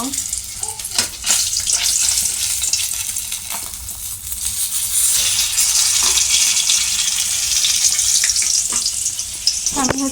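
Chopped onions and vegetables frying loudly in a pan, a strong continuous sizzle that swells and settles, broken by occasional utensil scrapes and clicks, with no one talking.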